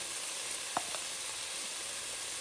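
Onions with turmeric, salt and ginger sizzling in a pan for an eggplant tomato curry, a steady close hiss with one or two brief clinks from a spoon, no voices.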